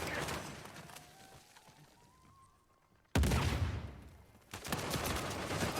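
Gunfire in Uncharted 4 multiplayer, with bursts of loud, rapid automatic shots that open the clip, fade off, then burst back in hard and close for the last half.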